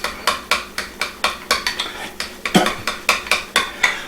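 A utensil stirs a shrimp appetizer dip in a bowl, clinking against the side in a steady, rhythmic run of about two taps a second, loud and close with no talking.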